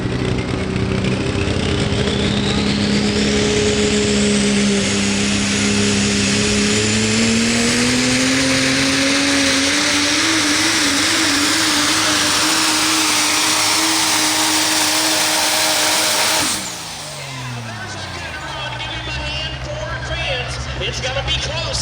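A 2017 Ford F-250 pulling truck nicknamed Deadpool roars at full throttle at a county fair truck pull, its loud engine pitch climbing steadily for about sixteen seconds before abruptly dropping off and winding down.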